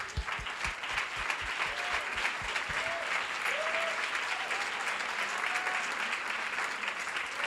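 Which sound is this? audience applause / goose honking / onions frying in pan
audience applause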